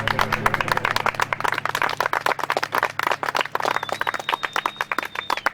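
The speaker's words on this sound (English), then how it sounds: "Round of applause." An outdoor group gathered along the San Joaquin River Parkway claps, crisp individual hand claps, fairly close, that thin out into a looser, uneven rhythm toward the end.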